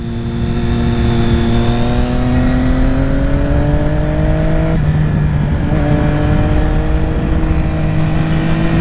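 A 2006 Triumph Daytona 675 sportbike's engine revs loud and close throughout, steady rising harmonics with a brief dip as the bike flicks through turns, no talking.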